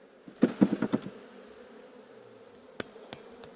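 A short burst of honey bee buzzing near the start, a few pulsing hums close by at a hive with a new swarm, then quieter background with a couple of faint clicks.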